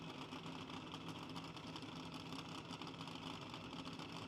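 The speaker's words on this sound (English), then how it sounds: "Wayne Ramey, 2017 Nielsen Parks chassis dragster with 437 cubic inches of blown on methanol." A 2017 Nielsen Parks chassis dragster with a 437 cubic inch blown methanol engine idles steadily between the rails at the March Meet, a loud, dense, continuous mechanical roar with no break.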